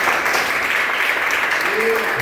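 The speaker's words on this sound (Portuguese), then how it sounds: "Dá uma salva de palmas para essa noite." Steady, dense clapping from a large church congregation fills the whole stretch, loud and even with no pauses.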